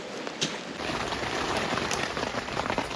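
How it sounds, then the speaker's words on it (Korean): Steady rain patters on a tent at a forest campsite, a dense hiss of drops that stays even and close throughout, with no voices. "막상 나가면 비가 그렇게 많이 안 오는데. 시끄러워."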